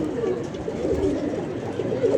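Pigeons on a rooftop loft, including a Faisalabad-bred bird, cooing softly in a steady low murmur close by, with a continuous texture of overlapping calls and no clear speech.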